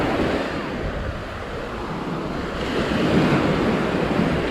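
Surf rolls continuously onto the Gulf beach at St Andrews State Park near the jetty where St. Andrews Bay meets the Gulf, a steady broadband wash with wind noise buffeting the microphone, swelling slightly louder in the second half.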